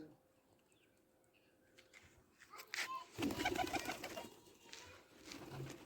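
Pigeon chick kept in a cage with soft, low cooing and rustling nearby, heard close alongside someone speaking.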